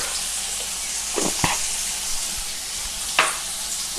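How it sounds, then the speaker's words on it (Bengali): Potatoes fry in oil with salt and turmeric over medium heat, a steady close sizzle with a few soft scrapes as they are stirred. "নুন আর হলুদ দিয়ে আমি আরও 1 মিনিট ভেজে নিয়েছি।"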